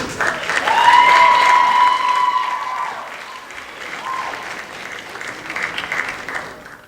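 Applause rings out for students at a high school academic awards ceremony, a loud burst of clapping that peaks early, then thins to scattered claps with some cheering voices mixed in.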